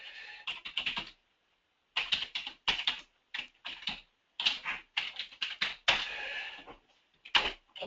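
A password being typed on a computer keyboard, with close, crisp bursts of rapid keystrokes separated by short pauses and a few single taps.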